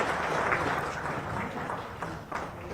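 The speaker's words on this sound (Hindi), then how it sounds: "स्वागत जोरदार तालियों से कीजिए मुख्यमंत्री बिहार श्री नीतीश कुमार जी" A crowd at a handloom day event in Patna gives loud applause welcoming Bihar Chief Minister Nitish Kumar, a continuous wash of many hands clapping that holds steady and eases slightly toward the end.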